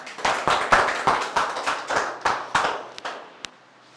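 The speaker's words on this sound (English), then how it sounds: "So give her a big round of applause." A small audience at a spoken-English class applauds as a student comes forward to speak. A dozen or so strong, evenly spaced claps ring out in a steady rhythm in a reverberant room, then taper to a couple of stray claps.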